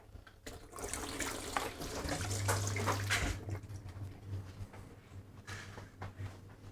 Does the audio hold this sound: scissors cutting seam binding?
no